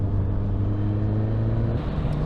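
Suzuki GSX-S1000 motorcycle idling with the clutch pulled in, its engine revs hanging at a steady, even drone close to the listener, with no talking over it.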